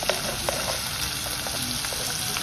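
Sliced tomatoes fry in a pan for a smoked pork dish, giving a steady, close sizzle with faint crackles and an occasional stir, and no one talking.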